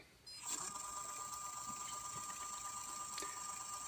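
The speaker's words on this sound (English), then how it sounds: "So we have it set for about 500 RPM on the lathe." An old lathe spins up and runs at about 500 RPM, giving a steady mechanical whir with a high tonal whine and faint rattling, moderately close.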